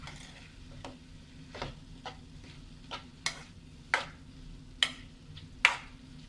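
Carrot stir fry (thoran) being stirred in a pan, a series of sharp, evenly spaced scraping strokes over a faint low sizzle, close and fairly quiet.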